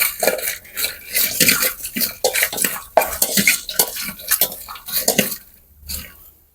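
Dried chilies, lemongrass, kaffir lime leaves and shallots scrape and rattle around a dry pan as they are stirred briskly, a busy clatter of utensil against metal that stops abruptly near the end.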